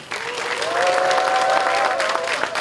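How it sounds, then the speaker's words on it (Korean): Steady applause from an audience at a groundbreaking ceremony for a food-robot research center fills the whole stretch, dense and sustained, with a faint tone and some voices underneath. "여러분 박수 한번 해주십시오"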